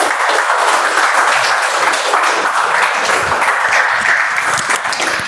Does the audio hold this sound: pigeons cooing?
no